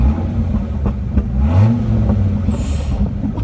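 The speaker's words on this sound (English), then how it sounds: "just listen to that exhaust" A Dodge Viper SRT-10 V10 exhaust revs up loudly and roars, rising and falling in a deep growl, close by with no talking.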